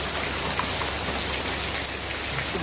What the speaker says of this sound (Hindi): बहुत ज़्यादा तेज़ बारिश हो रही है